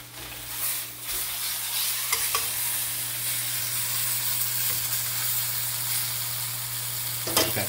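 Beef searing in a pan for Brasato al Barolo, being flipped, a continuous steady sizzle with a few soft clanks, close and alone with no talking.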